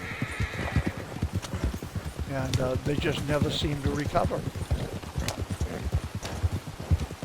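In Red Dead Redemption 2, a horse's hooves clip-clop in a steady rhythm while it whinnies loudly mid-stretch, close and clear, with someone talking over the hoofbeats.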